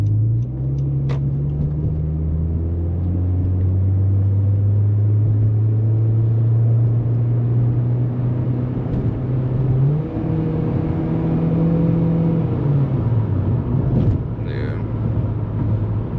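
Honda Civic with a CVT accelerating on a highway, heard from inside as a steady engine drone whose pitch climbs smoothly without gear shifts, over road rumble, and someone speaks briefly at one point.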